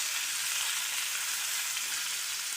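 Fish fried home-style in a pan gives off a dense, loud, unbroken hiss of hot oil, close by with no voices.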